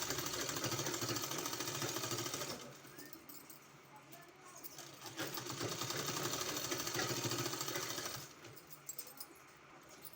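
A sewing machine runs in steady bursts while stitching a kurti hem, a loud stretch of whirring stitching easing off near three seconds, returning from about four to eight seconds, then fading again.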